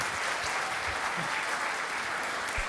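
A conference audience at a cloud developer community day applauds steadily, a dense, even wash of many hands clapping with no talk over it.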